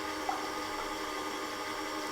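Sugar water poured into apple pie dough mix in a bakery machine, heard as a steady, fairly faint pouring flow with no talk.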